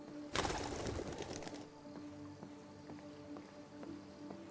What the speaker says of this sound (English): Not just because they're virtual birds.